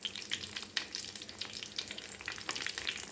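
Mangalore buns deep-frying in hot oil give a dense, continuous crackling sizzle with bubbling spits throughout, close and steady with no voices.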